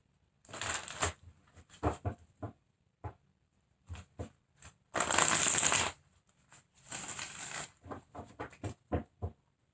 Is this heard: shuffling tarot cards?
yes